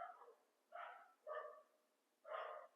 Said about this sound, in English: Whenever the dogs bark